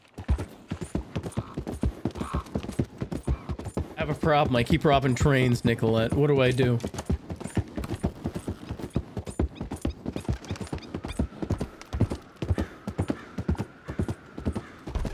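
Rapid, regular hoof clip-clops from a video game horse run throughout, joined by a whinny partway through, while someone talks over the galloping.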